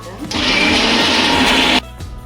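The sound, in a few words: mixer grinder blending spices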